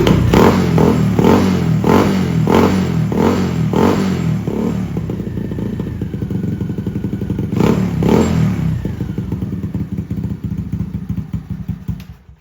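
A Honda CT70 fitted with a Bartmotoco exhaust idles on choke close by: a loud, steady, popping small-engine putter with a run of sharp blips in the first few seconds and another near eight seconds, then a settled idle.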